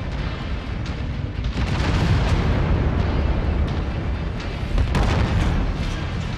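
Heavy explosions and weapon fire from the video game MechWarrior 5: Mercenaries, a dense continuous rumble of booms and blasts with sharper bursts near the end, loud and unbroken for several seconds.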